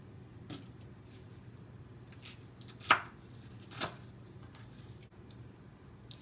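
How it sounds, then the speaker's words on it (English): A knife cutting pod bean pieces into tiny bits on a board, soft close taps with two sharper, louder cuts standing out from a quiet background. "To make it easy to blend, I'm just going to cut those into tiny bits."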